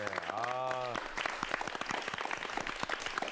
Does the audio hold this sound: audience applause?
yes